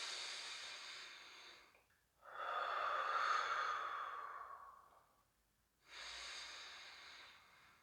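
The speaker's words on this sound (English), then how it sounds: "Breathe in," Deep breaths during a qi gong lesson, heard close and quiet: a long, slow airy inhale swells and fades, framed by softer breaths before and after, with no talking.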